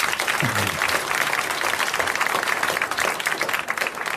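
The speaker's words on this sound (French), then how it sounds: "Mademoiselle Viard de Villeparisis, vous l'applaudissez, elle a gagné 500 francs" A studio audience at a 1981 French television game show applauds a contestant's win, with dense, steady clapping filling the whole stretch at full loudness.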